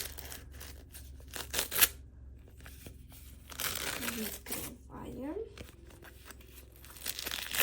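A plastic packet of emoji paper stickers crinkling and tearing open in short bursts, close by, with a quiet voice speaking in between.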